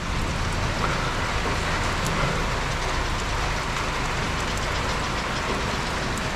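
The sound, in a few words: rain falling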